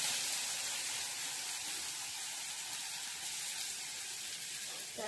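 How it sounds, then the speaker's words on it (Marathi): Onion frying in hot oil for masala Maggi, a continuous even hiss and sizzle heard close up, with no talk over it. "तेल तापू द्यायचं, थोडा कांदा टाकायचा"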